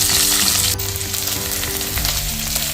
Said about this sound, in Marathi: कांदा आहे तो घालते आणि सोनेरी गुलाबी रंगाचा होईपर्यंत भाजून घेऊ